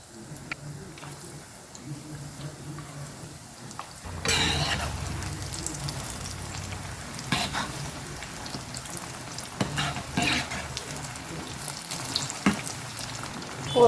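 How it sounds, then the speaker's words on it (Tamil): Plantain bajji dropped into hot oil, a soft bubbling that swells into a loud, dense crackling sizzle partway through and then holds steady with small pops, close by, with no speech. "பஜ்ஜி போட்டுக்கிறோம்"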